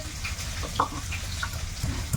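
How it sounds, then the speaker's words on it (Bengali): Fish fries in oil nearby, a faint continuous crackle with scattered pops and spits and no talk. "ওদিকে মাছ ভাজা হচ্ছে"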